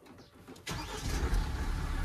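After a quiet moment, a diesel SUV engine cranks and catches after glow-plug preheating in snowy sub-zero cold in Spiti Valley, then settles into a rough, loud idle that rumbles on.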